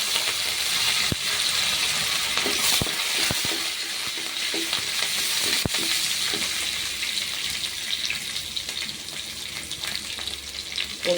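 Onions and curry leaves sizzle steadily in hot oil while tempering for a banana flower curry, with occasional sharp clicks of a stirring spoon against the pan.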